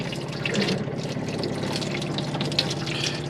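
Steady broadband rush of water running from a hand basin tap in an Elddis Majestic 115 caravan, continuous and fairly close, with no talking.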